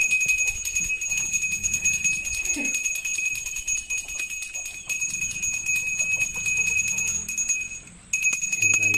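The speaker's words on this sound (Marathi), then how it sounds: "एक परंपरा असता की पाटणा अशी घंटा वाजवायची" A small hand bell rings repeatedly in an even pattern during a Nag puja immersion procession in Konkan, Maharashtra, bright and fairly close against faint outdoor background, with a brief break near the end.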